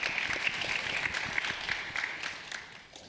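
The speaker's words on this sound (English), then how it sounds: "round of applause for that." An audience at a youth leadership and marine workforce panel applauds, a steady patter of clapping from a modest crowd that gradually fades toward the end.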